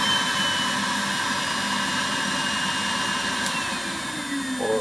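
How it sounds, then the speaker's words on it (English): A Podomonium Jimbo nail drill's built-in vacuum runs at its maximum setting, giving a steady, loud, even whirring roar with a constant high whine, unbroken for the whole stretch with no one talking. "Here I can adjust the vacuum from low to maximum."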